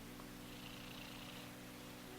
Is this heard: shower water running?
no